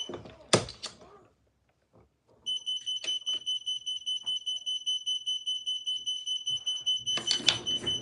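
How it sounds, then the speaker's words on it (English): A smoke alarm beeps in a steady, rapid repeating pattern for several seconds at close range, following a couple of thuds and brief low talk, with a louder clattering burst near the end. "Sorry about the beeping, guys."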